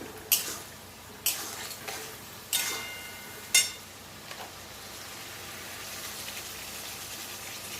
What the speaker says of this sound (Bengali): আর দেবো একটু জিরের গুঁড়ো, দিয়ে মশলাটা ভালো করে কষাবো।